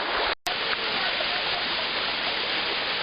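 Manyava waterfall and the stream below it give a loud, steady roar of rushing water, broad and continuous, with one brief dropout early on.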